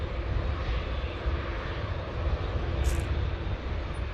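Saudi airliner taxiing in from Jeddah at an airport, a steady, broadband jet engine rumble and roar heard from a distance, continuous and fairly loud throughout.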